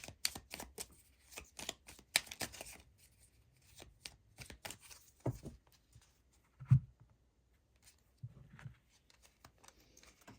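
Tarot cards being shuffled and drawn, with quick papery riffles and flicks in close bursts separated by quiet pauses and a few soft taps.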